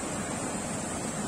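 The flooding Cheyyar river rushes in a steady, dense roar of moving water. The sound is even and continuous with no voices.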